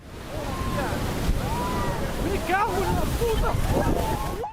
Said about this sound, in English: See the fury of the ocean.